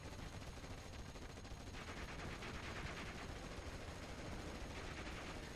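Battle gunfire in Steel Division: Normandy 44, with a British 6-pounder anti-tank gun engaging advancing vehicles, blends into a dense, continuous barrage of shots and rattling fire that stays loud and unbroken throughout.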